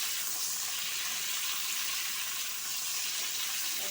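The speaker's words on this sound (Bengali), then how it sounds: "ঢাকা দিয়ে এটা ভাজা হতে থাক।" Pointed gourd (potol) frying in oil in a covered pan, a steady hiss and sizzle with no breaks, close and even throughout.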